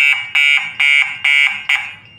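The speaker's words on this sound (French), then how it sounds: "l'alarme sonne. J'espère que vous entendez le bruit. Donc, l'alarme retentit." An electric fence burglar alarm at a home or farm blares in five loud, rhythmic pulses of a shrill tone. The last pulse is shorter and trails off, and no one speaks.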